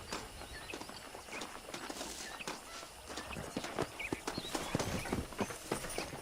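In the video game Red Dead Redemption, horse hooves clip-clop in a steady walking rhythm at close range, with soft ambient outdoor sound and faint birds behind them.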